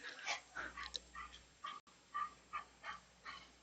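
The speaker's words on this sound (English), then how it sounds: "calm down, dogs." Indoor dogs in a studio let out a series of faint, high whimpers and yips, repeated in short bursts with brief pauses between.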